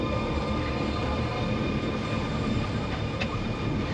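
The Bronx Zoo monorail rumbles along its track in a steady, loud, close ride noise with a constant low drone and a faint brief squeal near the end, with no talking.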